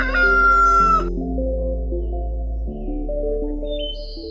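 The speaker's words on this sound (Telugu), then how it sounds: "అలా అని కోడి ఒక రాయి పైకి ఎక్కి కుయ్యడం మొదలుపెట్టింది." A red cartoon rooster perched on a rock crows in a children's animated story, a loud, synthetic-sounding call that runs into sustained musical tones with no talking.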